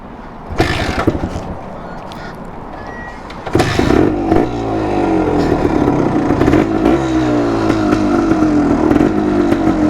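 A 1974 Yamaha DT250 motorcycle with a two-stroke engine crackles and blips at first, then revs up loud and close and holds a raspy, rising buzz as it pulls away.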